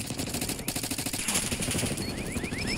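Rapid automatic fire from an XM4 rifle in Black Ops 6, a dense continuous stream of shots loud and close, layered over game sounds with no one speaking.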